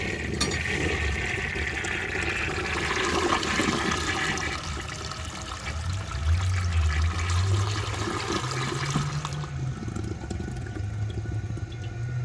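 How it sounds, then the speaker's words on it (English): A 1930 Eljer Sanus toilet with a brass flush valve and tank ball flushes with a strong, loud rushing of water, then settles into a lower gurgling swirl and refill as the tank empties. "This toilet has a very awesome flush"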